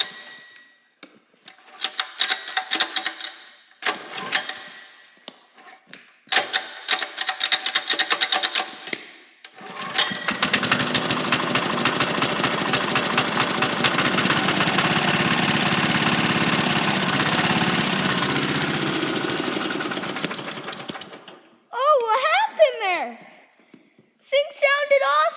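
A 1981 Kubota rototiller engine cranks in short tries, then catches and runs at a steady low idle for about ten seconds before it cuts out, with a voice speaking before and after.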